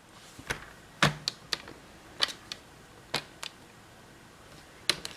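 Sharp scissor or trimmer snips cutting black and white cardstock on a diagonal, a run of close, crisp clicks spaced irregularly with quiet gaps between them.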